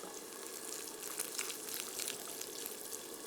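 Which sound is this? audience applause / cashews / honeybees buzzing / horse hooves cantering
cashews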